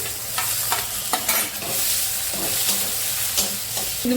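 Tomatoes sizzle in a pan with fried onion paste and oil while a spoon stirs and scrapes in irregular strokes, loud and close throughout with no talking.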